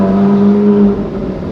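A Ferrari 458 Spider with its stock exhaust and valves open accelerates on a circuit, a loud, close engine tone holding steady before fading slightly toward the end.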